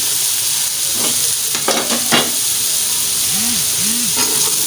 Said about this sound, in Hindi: थोड़े से ही घी में ना ये हमारे फ्राई हो गए हैं।